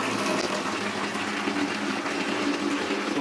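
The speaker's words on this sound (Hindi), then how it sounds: "इससे हम पूरा 15 लीटर पानी निकालेंगे" Hot water from a new electric geyser runs out steadily in a bathroom, a continuous loud gushing stream that holds level throughout with no pauses.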